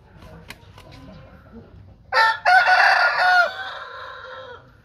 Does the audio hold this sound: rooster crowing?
yes